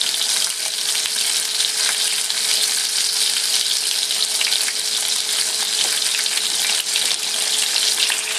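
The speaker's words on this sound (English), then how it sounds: "These are just going to be regular old fried pork chops" Country-style pork chops fry in a pan of hot oil, giving a loud, dense, continuous sizzle close up, with no talking over the steady crackle.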